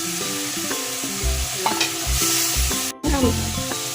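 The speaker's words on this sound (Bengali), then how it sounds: "মশলাটা একটু কষায় নি।" Spice paste with tomato fries in a pan for a cauliflower and egg curry. A loud, continuous sizzle is broken by rhythmic scraping stir strokes, with one brief moment of near silence partway through.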